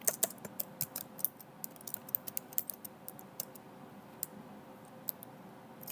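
Keys clatter in quick, irregular bursts as someone types on a computer keyboard while setting up a PLC and HMI control project, the clicks close and crisp over a faint background hum, with no voices.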